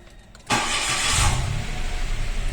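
A Mitsubishi Mirage G4 with a check-engine fault cranks and catches after a short quiet pause, then settles into a steady, close idle that holds to the end without speech.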